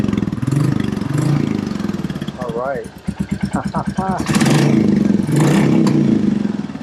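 A Royal Enfield Classic 350 single-cylinder engine with a cat-delete exhaust pipe runs up close, idling with a steady low thump and a few sharp blips and revs in the middle, while someone talks briefly over it.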